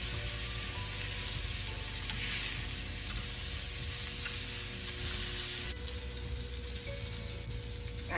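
Sausage frying in a pan gives a loud, steady sizzle that continues unbroken with a faint crackle and stirring noise.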